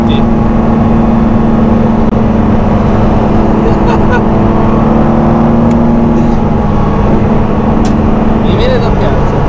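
A new Ford GT race car drives the Le Mans circuit during the 24 Hours weekend, its engine droning loud and steady from close inside the cabin throughout, with a voice talking over it.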